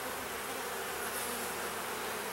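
Honey bees hum steadily over a capped brood frame lifted from a nuc hive, a dense close buzzing swarm sound with no gaps.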